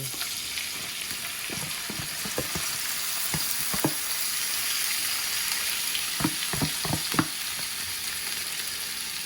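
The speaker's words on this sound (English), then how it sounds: "now I'm just gonna throw it on the same oil and pan that we used to sear the sausages" Sliced bell peppers and onions sizzle in leftover sausage oil in a pan, a steady close hiss with scattered clicks and scraping knocks clustered near the start and again toward the end.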